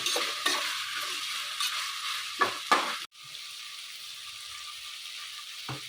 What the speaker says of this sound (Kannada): ಈಗ ಹಸಿ ಬಟಾಣಿ ಹಾಕ್ಕೊತಾ ಇದ್ದೀನಿ ಇದನ್ನು ಇದರಲ್ಲಿ ಫ್ರೈ ಮಾಡ್ಕೊಳ್ಳೋಣ